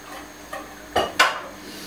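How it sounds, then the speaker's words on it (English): A large cooking pan is pulled out and handled in a home kitchen, a few sharp metallic clanks and knocks, the last two loudest and close together, with quiet in between. "So we're going to need a pan. So let's get ourselves a nice big one"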